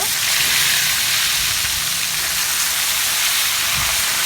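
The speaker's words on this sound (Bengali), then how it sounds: "এখন আমি আলুর মধ্যে মাংসটা দিয়ে দিব" A loud, continuous frying hiss fills the clip, a dense steady sizzle of free-range chicken and potatoes cooking in a hot pan with no voices.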